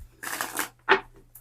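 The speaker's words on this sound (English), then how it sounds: "as soon as I started shuffling the cards for you" Two short bursts of tarot cards being shuffled, a crisp riffling flutter followed by a brief snap, close and quiet against near silence.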